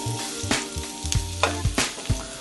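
Chopped ginger and garlic fry in a pan over medium-high heat, a steady loud sizzle broken by clattering stirs and scrapes of a utensil against the pan, close and with no voices.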